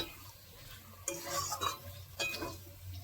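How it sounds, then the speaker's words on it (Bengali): Chicken back pieces stir-fried in masala on high flame, with soft sizzling under sharp spatula scrapes and clinks against the pan, several distinct strokes close by. "মশলার ভিতরে এখন ভালো করে পাছাগুলো মিশিয়ে এখন কষাতে হবে"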